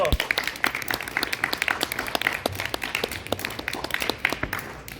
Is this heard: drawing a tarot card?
no